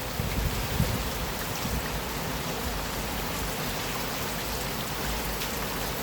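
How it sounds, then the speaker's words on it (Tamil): Steady rain falls outdoors onto garden plants, a dense, even hiss of drops that holds without a break from start to finish, with no voices over it. "மழையை பாருங்க எவ்வளோ சூப்பரா வருது"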